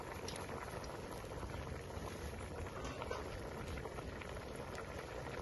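Duck curry bubbling in a pot after a little water is added, a steady close boil with dense continuous bubbling and no voices.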